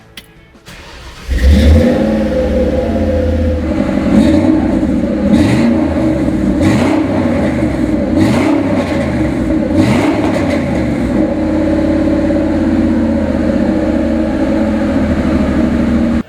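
A big V8 engine in a 1977 Ford Bronco 4x4 with an SVT Cobra drivetrain cranks and catches, then idles with a deep rumble and is revved several times in bursts, loud and close, no voices.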